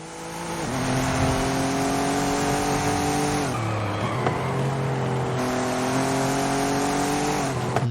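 An Audi all-wheel-drive race car in a racing video game roars loudly and steadily, the engine pitch climbing through gears with brief drops at shifts and faint tire squeal.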